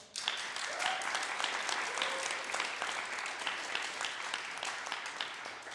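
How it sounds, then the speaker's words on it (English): Sustained audience applause after a dance week performance evening, steady dense clapping from a crowd that holds throughout without fading. "So please give them a round of applause."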